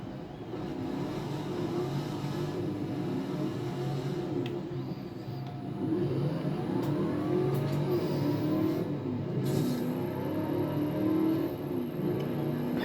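A Ford XB GT hardtop built as the Mad Max Pursuit Special drives along a road, its V8 engine droning and rising in pitch as it accelerates through gears, heard steadily from inside the car.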